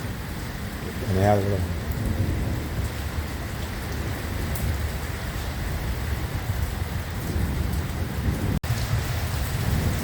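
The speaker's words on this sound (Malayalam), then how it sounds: "ഇതൊക്കെ വളരെ ശക്തമായിട്ട് മഴ പെയ്യുന്നുണ്ട്" Heavy rain with large drops pounds down steadily during an Ajman flood, a dense close-up roar of rain on surfaces, with a voice audible over it near the start and a sharp click near the end.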